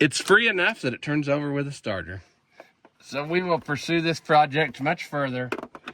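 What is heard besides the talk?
No everyday noises stand out.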